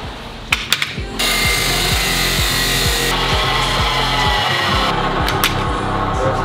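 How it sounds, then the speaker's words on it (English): A power saw cuts through a metal exhaust pipe clamped in place during cooling system work on a six-cylinder Subaru WRX STI, giving a loud, steady grinding drone for several seconds after a few short knocks, with no talk. "So I'm only gonna make one cut on this to start with."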